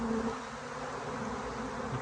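A dense swarm of honey bees hums steadily and loudly up close, a continuous thick drone pouring off a branch into a box, with no voices.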